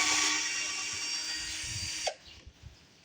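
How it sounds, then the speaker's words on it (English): A power drill fitted with a 10 mm socket whines steadily, close and fairly quiet, while working on a 1986 Toro with a two-stroke Suzuki engine. It stops abruptly after about two seconds, followed by a few faint clicks. "Got my drill, got my 10 mil on there."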